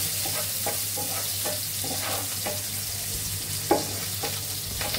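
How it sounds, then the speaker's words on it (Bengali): Steady sizzling of onions frying in oil in a pan with occasional stirring scrapes and clinks, close up, no voices. "পেঁয়াজটা ভাজা হয়ে গেছে"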